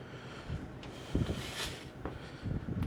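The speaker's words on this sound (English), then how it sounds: "it's terribly windy" Strong wind gusts outdoors near a farm tractor buffet the microphone, uneven low rumbling bursts and rustle rising and falling over a few seconds.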